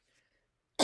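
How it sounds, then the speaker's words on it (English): A single short, loud cough bursts out at the very end after near silence, with only faint traces before it. "excuse me and this cough"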